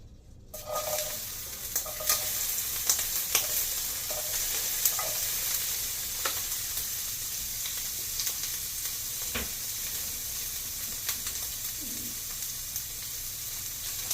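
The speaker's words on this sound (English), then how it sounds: "We're gonna add some grapeseed oil. Go ahead and get our onions sauteed." Onions sauté in hot grapeseed oil in a heated pan, giving a steady close sizzle throughout with occasional crackles and faint stirring scrapes, no talking.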